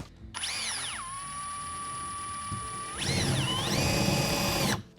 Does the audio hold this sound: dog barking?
no